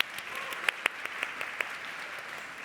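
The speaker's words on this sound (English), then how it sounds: "Please give them a round of applause before we start." Audience applause for panel speakers at a conference session, heard as a soft, fairly faint patter of clapping with a few sharper individual claps standing out over about three seconds.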